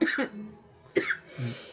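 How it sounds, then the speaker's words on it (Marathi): A woman with a cough coughs twice in quick succession, pauses, then gives another harsh cough, close and fairly loud. "हिला लागलाय खोकला."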